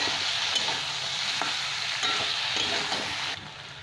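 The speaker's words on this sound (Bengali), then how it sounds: "ভালো করে একটু ভেজে নেবে।" Vegetables and poppy seeds sizzle steadily in a hot pan, with occasional scraping stirs breaking the crackle before it quiets at the end.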